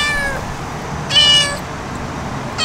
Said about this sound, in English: There's a kitty under Jalen's car